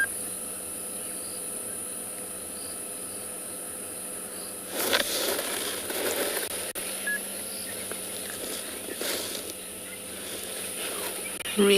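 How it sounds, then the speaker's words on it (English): Cicadas drone steadily through an evening on a South African safari game drive, with a continuous high buzzing chorus and a few louder swells, no talking. "Can you hear cicadas?"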